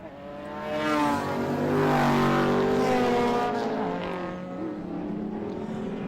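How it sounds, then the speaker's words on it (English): A Pantera and a Porsche 911 drag race side by side during a Group S race at Winton, their engines swelling up to a loud sustained howl with shifting tones before easing slightly as they pass. "there's a great drag race here between the Pantera and the 911"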